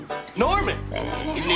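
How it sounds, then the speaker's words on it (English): A pig gives a few grunting oinks up close, with a voice speaking over the sounds. "This is my pig."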